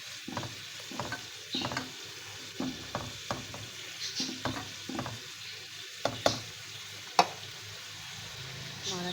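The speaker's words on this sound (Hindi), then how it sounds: "अच्छे से चलाएँगे।" A spoon stirs chicken changezi with cashews and leftover marinade liquid in a handi pot, giving repeated scraping strokes over a steady low sizzle, close and fairly loud, with a few sharper clanks near the end.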